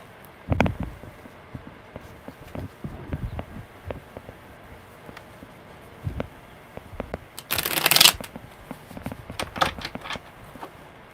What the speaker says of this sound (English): Okay, one more good shuffle.